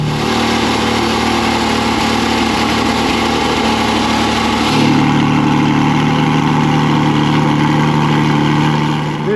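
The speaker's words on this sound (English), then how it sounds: "Here is a 718 Cayman GT4 cold start." A Porsche 718 Cayman GT4 starts cold and settles into a steady, loud idle. The engine drones evenly, then its pitch drops slightly about halfway through as the revs ease off. No one speaks over it.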